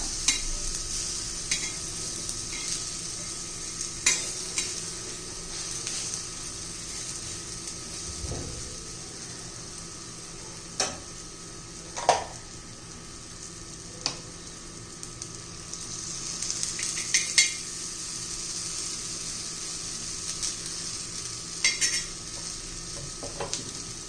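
Sweet potato cutlets roast and get flipped in a pan, with intermittent clinks of a spatula against the pan over a steady soft hiss, several sharper scrapes standing out, and no talking.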